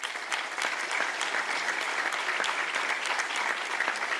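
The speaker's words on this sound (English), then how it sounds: "let's give them a round of applause," Steady applause from an audience at a chamber of commerce congressional luncheon, honoring the businesses' sponsors; dense, even clapping holds throughout with no voices on top.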